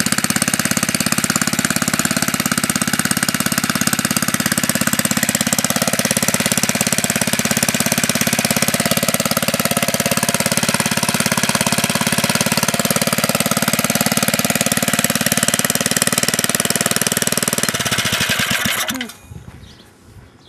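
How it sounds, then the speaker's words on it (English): A Briggs and Stratton engine on an air compressor runs loud and steady at close range, a dense unbroken drone that holds for most of the time before cutting off and winding down near the end. "So there's that engine that's running good."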